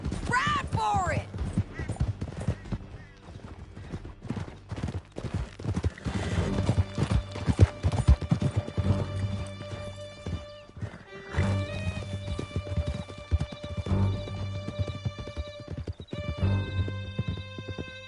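Several horses gallop in Red Dead Redemption 2, hooves pounding in a fast, steady rhythm with occasional neighs and whinnies, while voices call out over the loud, continuous ride.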